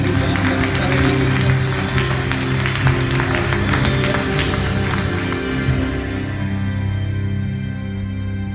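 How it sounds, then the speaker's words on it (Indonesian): Congregation applause fills a church service, a dense, steady wash of many hands clapping close by for the whole stretch, with music or voices underneath. "Setuju kita berikan tepuk tangan bagi Saudara Yesus."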